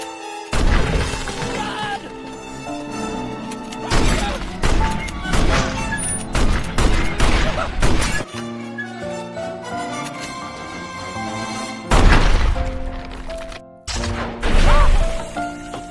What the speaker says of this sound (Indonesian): pemilik rumah yaitu seorang nenek melihat Remy dan langsung menembak mereka